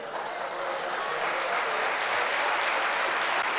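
Steady, loud applause from a church congregation during a sermon, dense clapping sustained evenly throughout with no pauses.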